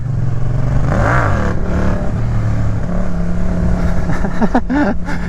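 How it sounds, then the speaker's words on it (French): An old, battered motorcycle revs hard while pulling a wheelie, its engine note climbing and falling in loud, close surges with a clattering edge. "Cabrage wheeling."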